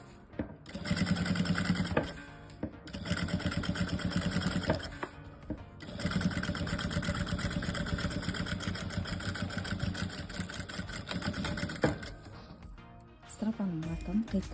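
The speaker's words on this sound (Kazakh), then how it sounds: "Енді екінші жағын тігеміз." Household sewing machine stitching a backpack strap, running in long steady bursts with brief pauses between runs, close and fairly loud.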